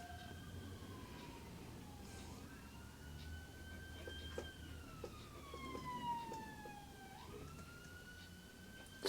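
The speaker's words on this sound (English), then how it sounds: "It's my ambulance." A siren wails up and down in long sweeps, faint and distant, over a low rumble of background noise.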